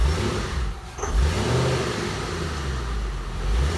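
A Batmobile car engine idles and rumbles steadily while the car is manoeuvred slowly, the low drone swelling slightly, heard close with no talking.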